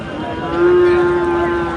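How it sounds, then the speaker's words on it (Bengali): A Friesian bull calf at a cattle market gives one loud, close, drawn-out moo of a little over a second, with faint market noise behind it. "ফ্রিজিয়ানের ষাঁড় বাচ্চা।"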